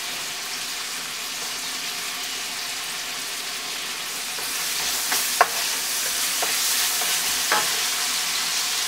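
Chopped onion with three or four cloves of minced garlic frying in a pan, a steady close sizzle throughout with a few sharp utensil clicks from stirring partway through.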